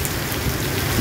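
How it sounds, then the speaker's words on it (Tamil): Heavy rain pours steadily in Chennai during a thunderstorm, a dense, continuous close hiss and patter of rainfall with no break and no voices. "சரியான மழை, இடி மின்னலுடன் கூடிய மழை."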